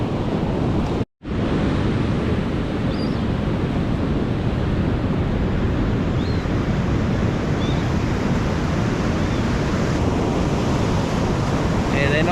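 Ocean surf breaking on a beach where people are fishing, a dense continuous roar of waves with wind buffeting the microphone and one brief dropout near the start.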